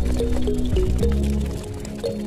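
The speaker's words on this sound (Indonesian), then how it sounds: "Tapi tuang sedikit demi sedikit sambil kita mengaduk atau menguleni." Water poured little by little into steamed bread dough while it is mixed and kneaded by hand, giving close wet squelching and sloshing with soft, irregular slaps, fairly loud, with no talk.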